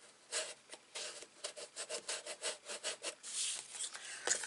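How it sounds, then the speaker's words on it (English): Close, steady rubbing strokes, about a dozen in a rhythmic back-and-forth, as a folded card-stock gable-end box is pressed flat along its score lines. "You can also rub from the inside."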